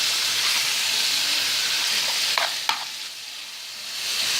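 Chorizo sizzles and fries in oil as it is broken apart, a steady bright hiss with a couple of sharp scraping clicks from the utensil partway through.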